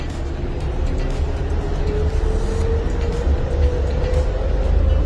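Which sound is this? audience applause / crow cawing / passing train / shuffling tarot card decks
passing train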